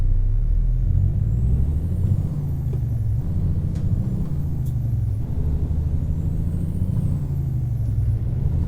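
A Kenworth T610 truck engine in American Truck Simulator, pulling through the gears: a loud, steady low diesel drone with slight dips in pitch at each shift and a faint air hiss, with no talk.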